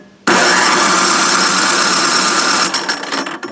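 An electric starter cranks an MTD snowblower engine: a sudden, loud, close whirring bursts in and runs evenly for a few seconds before faltering and sputtering at the end.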